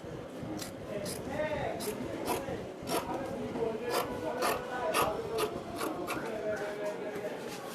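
Fabric being trimmed for a padded bustier blouse gives repeated rasping scissor cuts and rubbing of cloth, close and rhythmic, with a voice speaking underneath.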